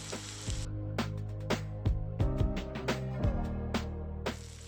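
Chicken breast fries in butter in a pan, giving a loud, continuous close sizzle with occasional utensil clicks and stirring knocks, and no talk.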